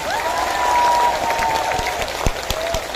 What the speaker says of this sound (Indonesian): Kurang kencang, tepuk tangan.